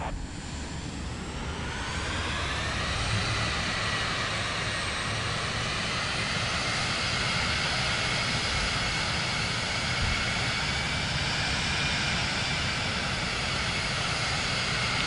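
Airplane engines roar in Microsoft Flight Simulator 2024 as the aircraft takes off, a loud steady drone that swells in the first seconds and then holds, with no voices.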